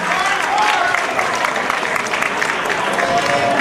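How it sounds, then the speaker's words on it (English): Crowd applause at a ballroom grand march for the House of Evisu, dense clapping and cheering filling the room at a constant level, with voices mixed in. "Y'all give the house of Evisu a round of applause."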